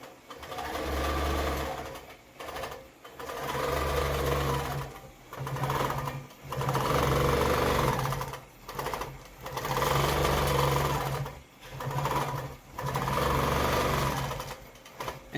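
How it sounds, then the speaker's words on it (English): Close up, a sewing machine runs in a series of short stitching bursts to tie off the thread, its motor whirring and knocking in pulses separated by brief pauses. "it's going to do 5 or 6 stitches right here to tie off the thread"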